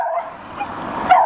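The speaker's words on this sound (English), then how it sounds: "Then the neighbor showed up with his dog" A neighbor's dog near a robotic lawn mower gives short yips and barks, moderately loud and close, with small whimpering tones in between.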